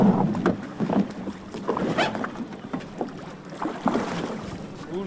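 Boats and tugboats work the water of the Black Sea near the Crimean bridge, engines and hull wash churning close by with wind buffeting the microphone in uneven gusts; no voices.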